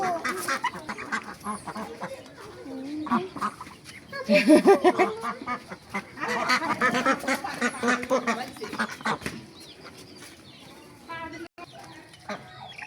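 Ducks quack in bursts at a farm, several calls overlapping with clucking poultry nearby, loud in the middle then thinning out, with people talking among the birds.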